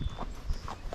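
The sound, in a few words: Rocky Mountain Horse hoofbeats while ridden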